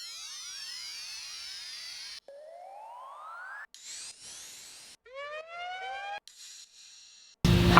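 Synthetic siren-like sweeps rise and fall in layered, warbling tones, shifting through several rising glides before a burst of broadband noise at the end.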